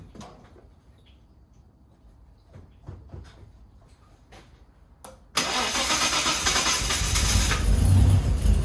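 A Nissan R31 Turbo Exec's RB30ET turbo engine cranks and fires on its first start-up after reassembly, jumping from quiet shop noises into a loud, steady running roar that builds slightly.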